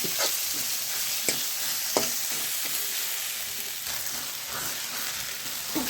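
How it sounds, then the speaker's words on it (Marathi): Pea filling with chilli paste roasting in a pan for matar kachori, a quiet continuous sizzle broken by light scraping stirs and small clicks from the spatula. "10 मिनटं आपण भाजून याला व्यवस्थित घ्यायचं आहे."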